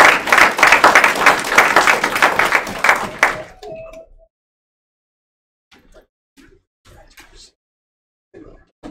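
An audience at a career and technical college signing day event claps loudly for about three seconds, then the applause stops abruptly, leaving near-silence broken by a few faint scattered sounds.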